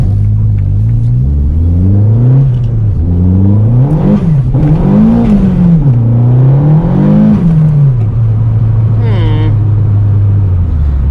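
A boosted Corsa B with a C20LET engine pulls hard through rising revs with gear changes, a loud, close, droning engine tone climbing and dipping repeatedly from inside the car, with a voice over it.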